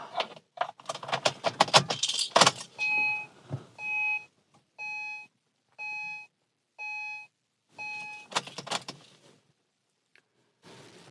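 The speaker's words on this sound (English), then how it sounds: "Turn on the ignition with an unpaired key." An Acura TL ignition switched on with an unpaired key, followed by a series of six evenly spaced electronic beeps from the car, preceded by jangling and clicking of keys.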